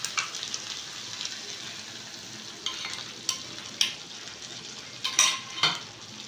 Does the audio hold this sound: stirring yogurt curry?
yes